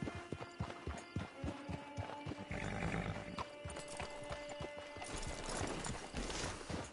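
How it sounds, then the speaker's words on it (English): Horse in Red Dead Redemption 2 trotting with crisp, evenly spaced hoof clip-clops, then a drawn-out whinny and snorting as the steps settle, heard close amid quiet game ambience. "Get your horse."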